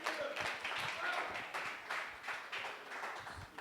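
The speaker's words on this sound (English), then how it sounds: "Let's give them a round of applause." Audience applause at a venture-capital panel event as the investors walk onto the stage, a dense steady wash of clapping from a crowd that holds for several seconds without a break.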